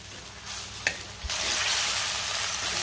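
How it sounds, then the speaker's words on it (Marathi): Ground masala paste frying in oil for chicken curry, starting quiet with a couple of clicks and a thump, then swelling into a loud, steady hiss of sizzling as the paste hits the hot pan. "ह्या वाटणाला सुद्धा चांगलं तेल सुटेपर्यंत मी वाटण परतून घेणार आहे"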